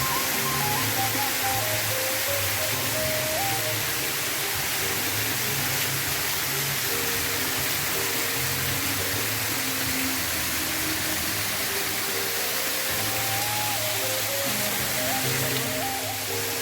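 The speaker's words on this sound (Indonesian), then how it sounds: "Air jatuh dari atas." A small rock waterfall at the Batu Mahpar tourist site pours water from above in a steady, broadband rush that lasts throughout, with people talking faintly over it.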